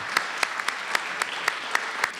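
Sparse audience applause at a public library event, a few separate sharp claps spaced out at a steady pace, moderately close with little else around them.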